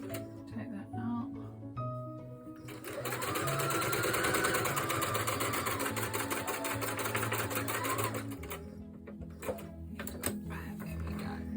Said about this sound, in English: I'll do a couple of stitches and a couple of stitches back.